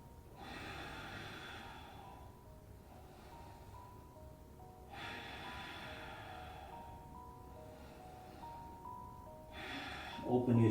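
Slow, steady breathing during a yoga pose, long drawn inhales and exhales repeating at a calm rhythm, faint and close, with a brief louder rustle at the end.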